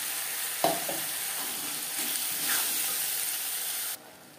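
Onion, garlic and tomato paste frying in hot oil with spices for Moglai paratha, a steady close sizzle with a few stirring scrapes, cutting off abruptly near the end.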